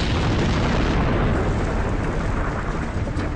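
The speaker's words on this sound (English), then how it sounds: "A series of massive explosions created a crater a mile wide." Massive explosions as superheated steam rips apart rock, heard as a loud, continuous deep rumbling roar that fills the whole stretch and eases only slightly toward the end.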